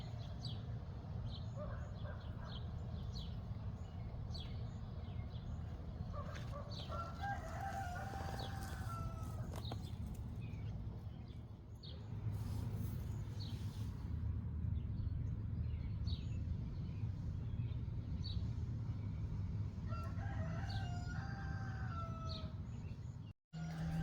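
Several roosters crow one after another over steady clucking and a low outdoor hum on a small homestead, with calls overlapping at moderate distance.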